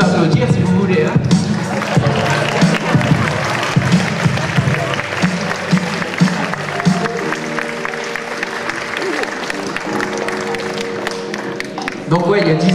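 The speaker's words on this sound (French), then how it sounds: "Vous pouvez applaudir si vous voulez," An audience at a French comedy show claps and cheers in a dense, steady wash of applause from start to finish, with a few sharp individual claps standing out near the end.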